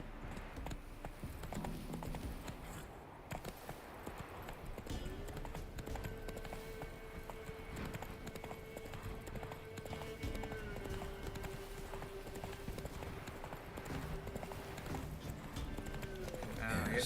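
A horse gallops in The Witcher 3 with steady, rapid hoofbeats running the whole way through, close and continuous over a droning musical backdrop.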